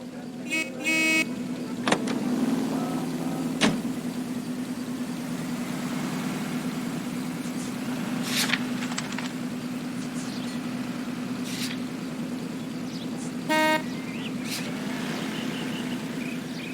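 Car engine from the L.A. Noire video game hums steadily throughout, with occasional sharp horn toots and short clicks breaking in.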